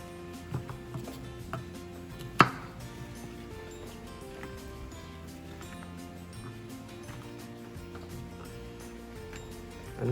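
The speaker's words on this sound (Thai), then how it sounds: "อันนี้ข้าโพดอ่อนนะครับ หั่นครึ่งเลยครับ" A knife chops baby corn in half on a cutting board while ingredients are prepared for an Isan bamboo-shoot curry, giving one sharp close thunk over a low, steady kitchen background.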